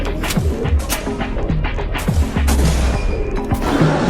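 Rapid pistol gunfire in a video game where a crowd battles a gorilla, with dense overlapping shots and booming impacts layered over constant game noise.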